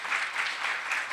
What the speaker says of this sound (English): let's give a big round of applause to our panelists and a chairperson